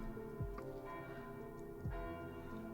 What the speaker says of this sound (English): the church bells start ringing outside.